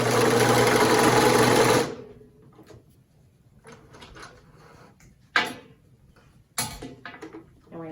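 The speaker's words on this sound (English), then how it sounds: "We're going to finish that line that we just sewed." A sewing machine runs fast and steady for about two seconds while finishing a seam on a cloth face mask, then stops, followed by quiet handling clicks and knocks.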